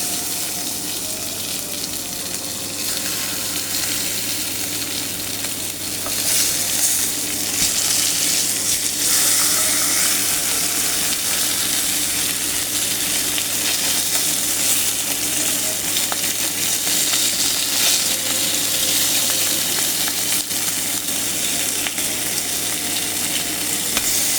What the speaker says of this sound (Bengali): মাছগুলো ভেজে নিব। মাছ ছেড়ে দিচ্ছি